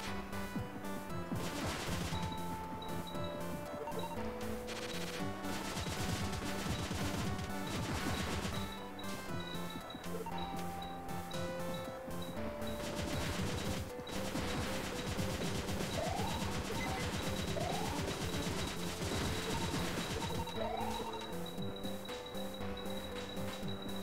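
Missile weapon firing in the Cave Story video game, with repeated crashing shots and explosions over continuous chiptune game music.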